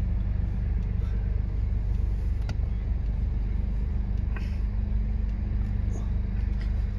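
Van driving along a road, heard from inside as a loud, steady engine and road rumble with occasional faint rattles and knocks.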